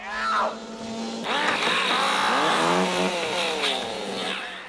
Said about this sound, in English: Today on Chainsaw ASMR.